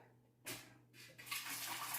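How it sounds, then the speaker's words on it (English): Water pours into a pressure canner in a home kitchen for canning chicken, a short splashing rush that starts abruptly, pauses briefly, then resumes louder and continues. "I'm going to add water to my pressure canner"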